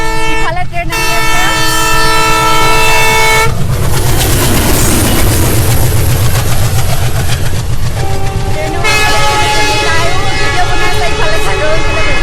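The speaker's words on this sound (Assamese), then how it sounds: "ইফালে ট্ৰেইন আহি আছে" A train draws near with loud, long horn blasts at the start and again near the end, a heavy rumble and rhythmic clatter of wagons in between, very close and dominant.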